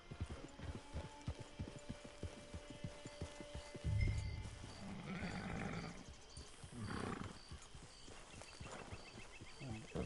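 Horse hooves clopping in a video game, a quick rhythmic trot at first that gives way to rumbling, roar-like game sounds, fairly faint overall.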